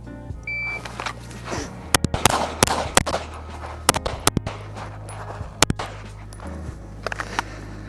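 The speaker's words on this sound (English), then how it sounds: "we're gonna move while we shoot" Pistol shots crack in a USPSA shooting drill as the shooter moves while firing, a rapid irregular string of loud sharp reports over a steady low hum and shuffling.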